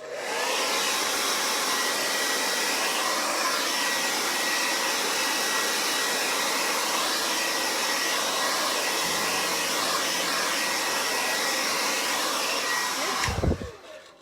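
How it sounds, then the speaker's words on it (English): A hair dryer blows steadily on wet acrylic paint on a canvas for about thirteen seconds, a loud, even whoosh that cuts off with a brief clunk near the end. "grab your hair dryers, because we're just going to speed up the drying process"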